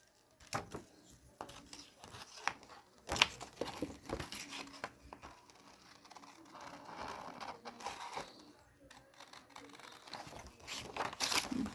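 Paper is snipped and crinkled while a dinosaur party decoration is cut out, giving faint, close, irregular rustles and scissor cuts with quiet pauses between them.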